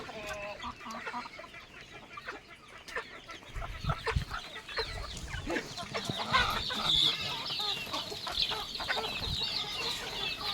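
Desi hens on a farm cluck and call steadily while pecking at khichdi scattered for them, several birds close by with overlapping clucks throughout and louder activity in the second half.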